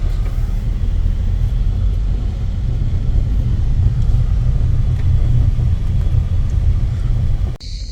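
Loud, constant low rumble from inside a car touring Chios island in Greece, holding steady throughout before cutting off abruptly near the end.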